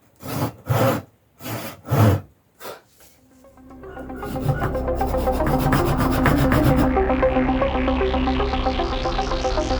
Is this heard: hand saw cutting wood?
yes